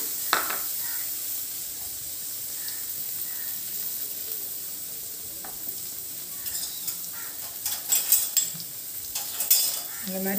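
Paneer and vegetables frying in a pan, a steady sizzling hiss with a spoon scraping and clinking against the metal now and then, close up, while a voice speaks briefly.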